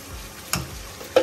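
Yogurt cooking in desi ghee in a pan, a low sizzle broken by two short stirring clatters.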